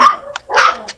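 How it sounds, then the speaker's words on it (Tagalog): A dog barks twice in quick succession, loud and close, with short sharp yips in a quiet indoor setting. "Maingay yung aso."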